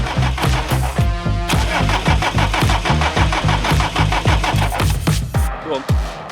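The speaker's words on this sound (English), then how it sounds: "So we're going to try with the spray again and see if we can get the engine to start." Diesel engine of a Land Rover Series 2A cranking and firing after an engine swap, loud and close, with repeated rhythmic starter turnover that catches into a rough running clatter, stumbling near the end.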